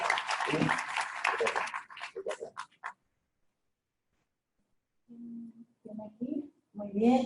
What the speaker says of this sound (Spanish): merece un fuerte aplauso por su participación